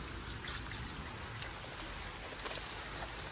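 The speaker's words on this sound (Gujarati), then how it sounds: "બહાર વરસાદ ચાલુ છે" Steady soft rain patter with scattered sharper drips, fairly faint and continuous with no voices.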